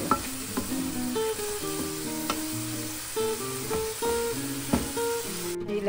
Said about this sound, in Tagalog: Then, haluin lang natin konti.